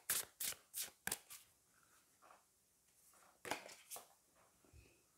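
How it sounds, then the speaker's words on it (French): A deck of oracle cards is shuffled close by, with quick riffling bursts at the start, a quieter pause, then another flurry of shuffles. "Et juste pour écouter le son des cartes."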